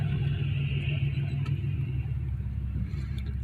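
A 1993 Chevy Lumina's engine idles at a stoplight with a steady low rumble, heard from inside the car, close and even, with no talking.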